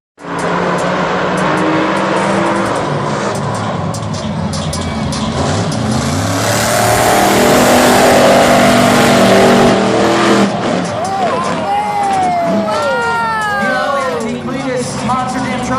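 Monster Jam monster trucks making a practice run at the 2016 World Finals XVII in Las Vegas: loud, sustained engine roar throughout, with crowd noise and an announcer talking, then tire squeals and engine whines toward the end.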